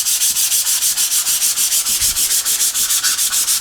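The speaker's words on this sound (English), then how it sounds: "So sanding a masonite board is nothing special." Rhythmic back-and-forth sanding of a masonite board with 150 grit sandpaper while priming it for acrylic painting, steady close strokes repeating about five times a second with no talk.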